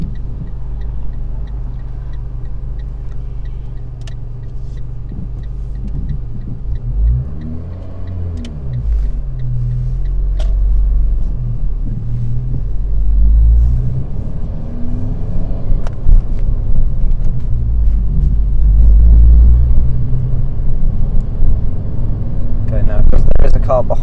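A car driven on a road during a mock driving test in Enfield hums with a steady low engine rumble that swells as it pulls away and accelerates, while an instructor and learner talk over it.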